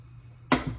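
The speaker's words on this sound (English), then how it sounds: "a little spritz just with my Kirkland spray" A single short spritz from a Kirkland spray bottle over a lunch meal, a sudden close burst of hiss that fades over a fraction of a second after a quiet start.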